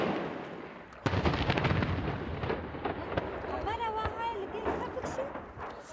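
Gunfire during fighting in Syria, a sharp broadband crack near one second followed by a dense, rumbling stretch of shots and blasts, with voices and a brief whistling tone mixed in.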